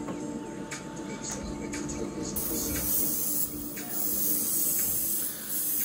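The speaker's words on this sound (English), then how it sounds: "we'll just make a fairly half decent coat of paint on here" Spray paint hisses onto a 1/72 Revell Type IX C U-boat model in short bursts, then a longer steady spray, close and moderately loud with a voice in the background.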